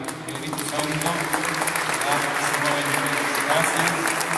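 Sustained, dense applause from a congregation fills a basilica during a Pentecost vigil, steady and loud throughout without a break.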